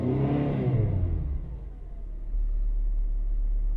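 A Mitsubishi Magna Mk1 four-cylinder engine starts nearby, with a loud revving burst that settles into a steady low idle rumble. No one speaks.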